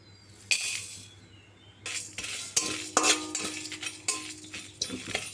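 Whole coriander, cumin, two dried chillies, cardamom, cinnamon and cloves dry roasting in a dry wok, with repeated scraping and metallic stirring clinks of a spatula, close and moderately loud, no voices.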